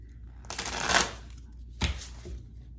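Tarot cards being shuffled in two quick riffling bursts, close and crisp, with a brief pause between them.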